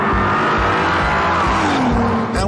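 An Audi TT 3.2 DSG's engine accelerates hard with a loud, continuous growl and rising pitch, its revs climbing steadily across the clip with brief gear-shift dips, heard close and alone without talk.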